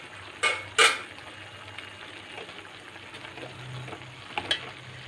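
Ivy gourd stir-frying with chili and coriander powder, a steady sizzle broken by a couple of sharp spatula scrapes early on and another near the end, close and fairly quiet with no talk.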